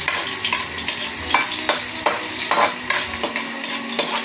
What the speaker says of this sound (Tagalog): Saute garlic and onion.